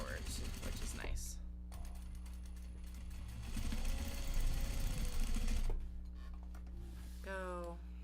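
A sewing machine chain-piecing pieces of a Japanese fabric bag, its needle running in fast rhythmic bursts that stop and start, with a brief pause and clicks of handling between runs, close up.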